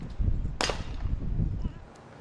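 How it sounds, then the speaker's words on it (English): A single sharp sniper rifle crack at a SWAT team shooting challenge, heard once from a distance over low outdoor rumble and crowd murmur. "Is that the first shot of the snipers?"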